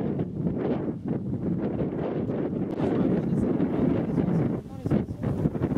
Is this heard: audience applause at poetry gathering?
no